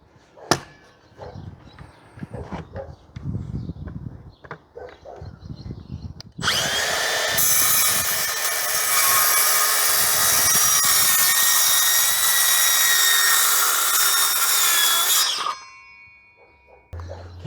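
A Makita DHS680 cordless circular saw, 165 mm blade, cuts through moisture-damaged chipboard from an old bed head: a loud, steady high-pitched whine lasting about nine seconds after some handling clatter, then a sharp stop.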